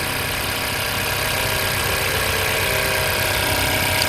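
A 2019 Honda CR-V with the 1.5-litre engine idles steadily, a dense, even mechanical hum heard close up in the engine bay without pause or variation.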